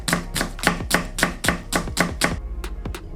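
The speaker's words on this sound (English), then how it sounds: "we're gonna start by thinly slicing the onions and then browning them" A knife slices through onions on a cutting board, with about eleven crisp, evenly paced chops that slow toward the end. The cuts sound close and clear, with no voices.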